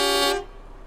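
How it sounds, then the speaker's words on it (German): An IVECO truck horn in the Euro Truck Simulator 2 game gives one loud, close blast of under half a second that cuts off sharply, leaving a quiet background. "Hupe haben wir auch."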